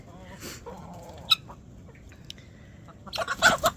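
Chickens cluck and squawk nearby, scattered at first then a busier burst of clucking at the end, with some soft voice in between.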